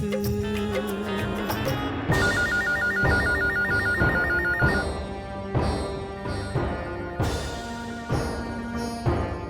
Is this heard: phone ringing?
yes